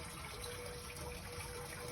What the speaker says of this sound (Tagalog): Maganda na po ang bagsak ng tubig.